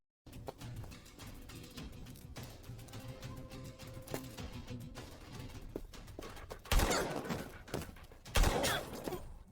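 Gunfire in a film scene of a gunfight: scattered sharp cracks over a busy background, with two louder, harsher bursts near the end.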